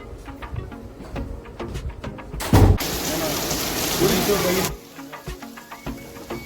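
Heavy rain pours in Delhi, a dense, loud hiss of downpour that sets in suddenly, roars steadily for about two seconds, then cuts back to a quieter patter with scattered drops.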